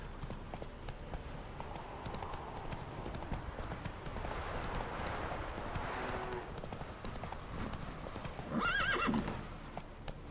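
Roach the horse gallops in The Witcher 3, with steady clip-clop hoofbeats over ambient game sound and a short whinny near the end.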